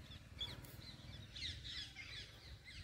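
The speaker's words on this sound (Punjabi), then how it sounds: "ਆਵਾਜ਼ਾਂ ਮੇਰੇ ਖਿਆਲ ਨਾਲ ਤੁਹਾਨੂੰ ਸੁਣਾਈ ਦੇ ਰਹੀਆਂ ਹੋਣਗੀਆਂ ਪੰਛੀਆਂ ਦੀਆਂ।" Birds call outdoors beside an iron bridge over water: a few faint, scattered chirps and caws rise over a low, steady outdoor rumble.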